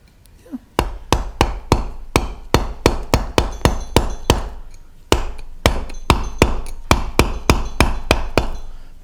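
A wooden mallet strikes a mallet-headed gouge chisel in a steady run of about two dozen loud, close, sharp knocks at a brisk even rhythm, with one brief pause midway and no talk.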